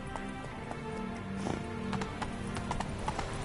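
Roach the horse trotting in a video game, a steady close clip-clop of hooves that runs for several seconds, with a brief whinny-like sound partway through and no talk over it.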